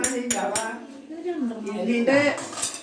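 Dishes and cutlery clink and rattle as curries are served at a family Onam feast, with sharp metallic taps scattered over a continuous background of voices and household bustle.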